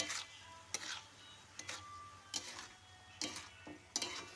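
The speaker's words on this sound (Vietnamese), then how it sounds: "Út quậy cho nó đều lên" A spoon stirs sugar and seasoning into a pot of shrimp bánh canh soup, giving soft, faint scraping clinks against the pot at an irregular pace over a low background hum.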